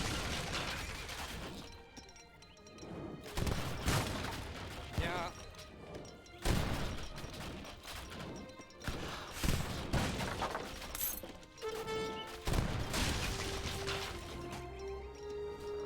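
Booming cannon volleys and crashing impacts in a busy Age of Empires 3 battle scene, loud and layered with music and effects throughout.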